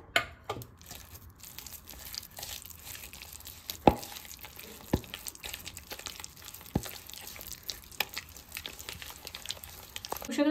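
Grated jaggery and shredded pumpkin being stirred and mixed together in a pan, giving soft crinkling, scraping rustles with a few sharper clicks of the spoon, close and fairly quiet, with no voice.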